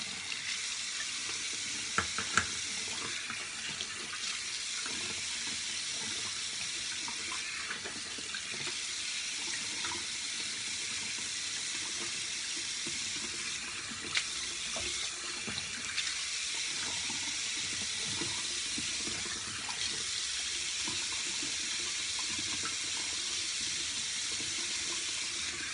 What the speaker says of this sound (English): let's rinse off